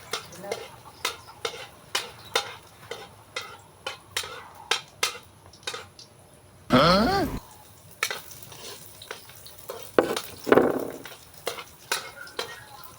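Garlic and onions frying in cooking oil in a home kitchen, a steady sizzle under repeated sharp stirring clinks of a utensil against the pan, with two louder bursts of crackling hiss partway through.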